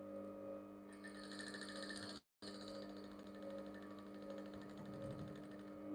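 A sewing machine stitches a seam on women's trousers with a rapid, even mechanical whirr, close and steady, briefly stopping for a moment before running on.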